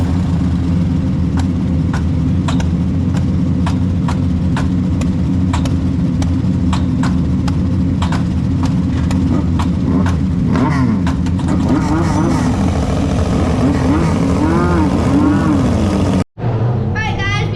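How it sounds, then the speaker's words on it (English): A race car engine at a dirt-track speedway keeps running loudly with a stuck throttle, holding a steady drone with rhythmic pulsing before wavering revs toward the end, then cutting out abruptly near the close. "Listen right here when the car tries to cut off."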